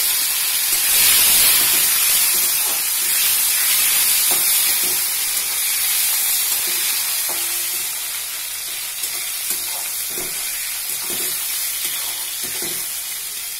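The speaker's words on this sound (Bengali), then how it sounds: "একটু অল্প ঘি দিলাম। এবার এর মধ্যে টমেটো ছিটিয়ে দিলাম" Tomatoes scattered into a little hot ghee in a pan for moong dal with fish head, giving a steady close sizzle and hiss with soft stirring scrapes, easing slightly toward the end.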